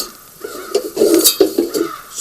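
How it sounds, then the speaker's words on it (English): Hard metal silverware and cooking utensils clink and clatter inside a rustic log cabin at a deer camp, a handful of close, bright metallic knocks and rattles in irregular bursts. "Some hard silverware for cooking."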